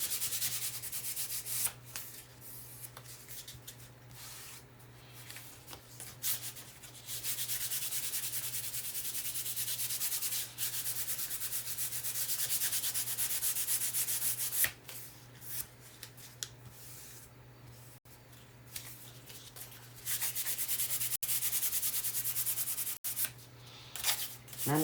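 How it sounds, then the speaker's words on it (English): Hand sanding of wood with 1400 grit sandpaper, a steady close scratchy rubbing that continues throughout with short pauses and shifts in stroke, over a faint constant hum. "And I'm using like a, what is it, 1400 grit sandpaper."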